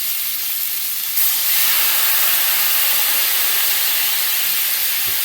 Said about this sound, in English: I'm going to add my butter and quick swish of some Glenlivet